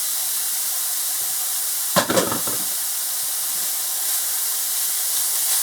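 Ground beef for stroganoff sizzles in a pan with onions and mushrooms, giving a steady broadband frying hiss, with a brief louder crackle and stir about a third of the way through.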